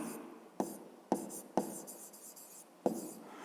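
Pen strokes writing a math expression by hand on paper, a few faint, close scratching marks separated by sharp little taps as the pen touches down, quiet and without voices.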